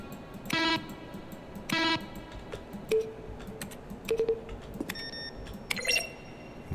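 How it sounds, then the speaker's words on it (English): Button presses in The Stanley Parable: Ultra Deluxe, each a blend of keyboard strokes and synthesized tones; several separate clicks and short tonal beeps spread out, with a brief chime-like tone cluster near the end. "When buttons are pressed, each sound is a mix of keyboard strokes and synthesized tones."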